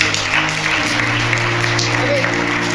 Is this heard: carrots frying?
no